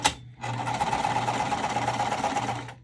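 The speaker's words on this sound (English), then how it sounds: "sewing with this Teflon foot really makes for my machine when I'm sewing waterproof canvas" A sewing machine fitted with a Teflon foot stitches waterproof canvas, starting after a brief pause and running in a steady, even whir for about two seconds before stopping.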